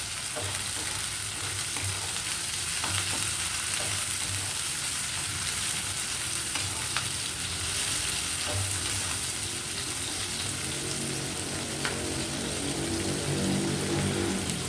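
A wok stir-fry for a Chinese-style dish crackles over a high flame with a dense, even sizzle like steady rain, heard close and alone for the whole stretch.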